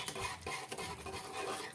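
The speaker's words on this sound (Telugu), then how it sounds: "బ్లెండర్ తీసుకొని ఇలా మెదుపుకుంటున్నాను" Boiled, salted dal for Nellore-style masala pappu being mashed with a hand masher in a pot, giving close, continuous scraping and stirring with light metallic clinks.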